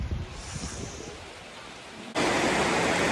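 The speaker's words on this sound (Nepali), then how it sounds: "यहाँ चाहिँ गाइस यस्तो डरलाग्दो पानी पर्नु थाल्यो" Heavy rain pours down, first as a soft, distant hiss, then a sudden loud, dense roar that sets in partway through and holds steady to the end.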